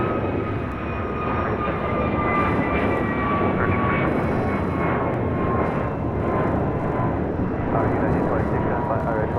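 A jet airliner at LAX makes a sustained loud engine roar with a steady whine on the runway, running the whole time under a radio voice.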